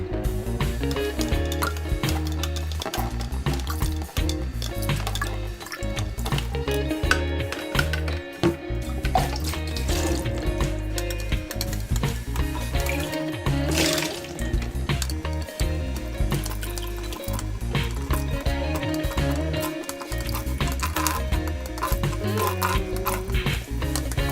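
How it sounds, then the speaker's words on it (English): Water pours from a jug into a glass, an uneven run of trickles, splashes and gurgles that stops and starts over a long stretch at moderate, close level, with no talking. "we have successfully transferred the water from the jug to the glass"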